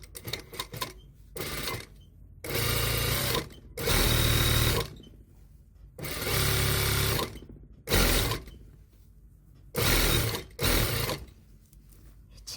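A sewing machine stitches a knit sweater during a reform, with loud close bursts of rapid mechanical whirring that stop and start again, separated by quiet pauses.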